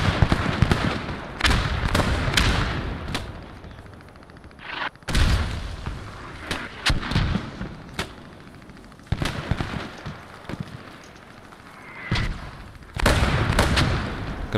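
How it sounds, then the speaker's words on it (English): Sniper rifle shots ring out during a Post Scriptum battle at Arnhem, sharp loud cracks spaced irregularly with booming echoes and quieter stretches between them. "Sniper's firing at me"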